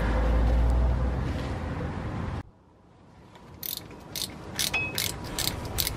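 A ratchet drives a T30 Torx bolt into an ABS wheel sensor on a Ford F-150, giving a series of quick, sharp clicking bursts after a louder mechanical stretch fades out.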